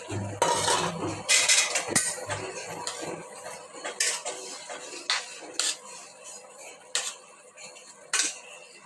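Small fish going into a pan of water spinach curry with a little water: a run of close metallic clinks and scrapes of utensils against the pot, irregular and fairly quiet, with no voices.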